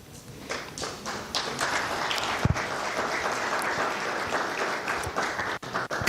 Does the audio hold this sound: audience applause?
yes